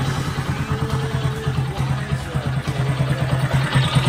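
Kawasaki Bajaj CT-125 motorcycle engine after starting: a close, steady low putter with a rapid, even pulsing rhythm throughout, moderately loud and without talk over it.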